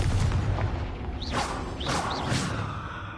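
In Hogwarts Legacy, a Confringo spell bursts as a loud boom with low rumble, followed by a few quick whooshing magical streaks and lingering crackle.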